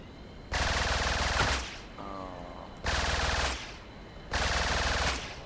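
A machine gun in the building game Trailmakers fires in three loud, close bursts of rapid, evenly spaced shots, separated by short pauses with a faint whirring tone in one gap.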